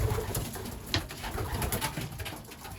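Young racing pigeons coo softly in a loft, low murmuring calls overlapping against a steady background hiss, with no talking.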